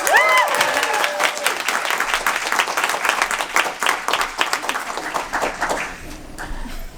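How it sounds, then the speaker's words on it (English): A convention panel audience at New York Comic Con applauds, with dense, lively clapping and a few cheers that carry for several seconds before slowly thinning toward the end. "Please give a round of applause to the OG Wu Assassin and Iko Uwais' spirit guide"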